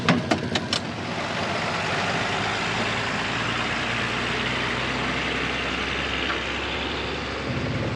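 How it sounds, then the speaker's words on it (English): A truck engine idles steadily with a low, continuous rumble at fairly close range, after a few brief knocks at the start, on a farm during bale hauling. "That's one truck."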